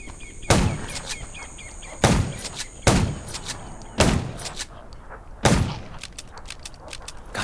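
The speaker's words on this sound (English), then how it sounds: "Gunshots will attract more zombies" Five sharp, loud gunshots ring out at irregular intervals, each with a brief echoing tail, over faint background ambience in the zombie survival video game Undawn.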